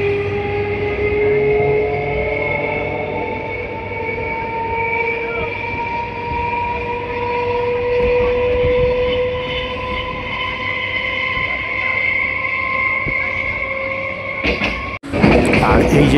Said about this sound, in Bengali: আর আমাদের ট্রেন এসে পৌঁছালো বালিগঞ্জ জংশন